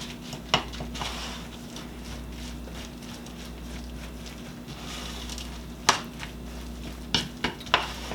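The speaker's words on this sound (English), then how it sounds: "we're just going to then mix this all up" Oatmeal carrot muffin batter with pineapple is mixed in a bowl, producing soft scraping under a low background hum, with a few sharper knocks of the utensil against the bowl scattered through the stirring.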